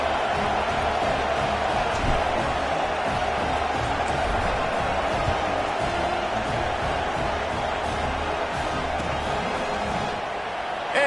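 A football stadium crowd in a football video game, a dense steady roar and murmur of many voices that holds evenly throughout with no sharp cheering peaks, while a commentator talks over it.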